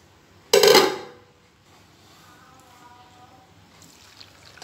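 Roughly two glasses of water poured into a pressure cooker holding kebabs with tomato, ginger, garlic, onion and spices, a loud splashing gush lasting about half a second, then a faint trickle and quiet kitchen ambience.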